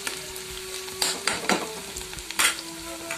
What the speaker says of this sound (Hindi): देखिए हमारे प्याज भुन चुके हैं